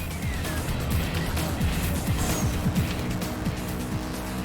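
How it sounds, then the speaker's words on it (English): Arcade taxi engine in Crazy Taxi drones loudly and continuously, its revving pitch sliding up and down repeatedly as gears shift, mixed with busy game music and street noise. "This is a little bit nasty, this engine sound, to be honest"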